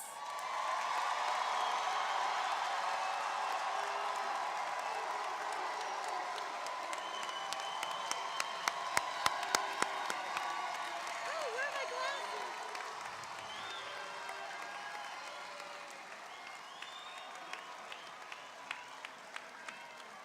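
Graduation ceremony audience applauding the 2014 graduates, a sustained wash of clapping with some cheering from a large crowd, steady for most of the stretch and thinning slightly toward the end.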